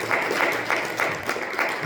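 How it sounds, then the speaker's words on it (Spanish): A church congregation giving an offering of applause to the Lord during a Spanish-language sermon, a short burst of steady group clapping with a rhythmic pulse, close and moderately loud. "Denle una ofrenda de palmas al Señor, hermano."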